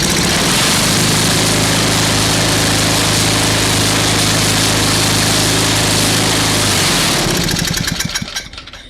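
An old 1970s Tecumseh small engine with points ignition runs loud and close, revving up and then settling into a steady idle before cutting off and rattling down at the end.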